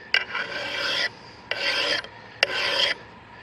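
Three steady strokes of a file rasping across the edge of a cutter mattock to sharpen it, each about half a second long with short gaps between, close up and fairly loud with no talk.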